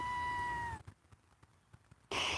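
Sydney, a pet kitten, gives a meow at close range in a quiet room, with a soft sound near the start and a brighter cry near the end.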